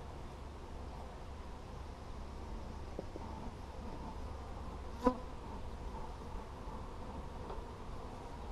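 Honey bees hum steadily at an opened hive packed with honey, a continuous close buzzing drone with one brief sharp knock midway.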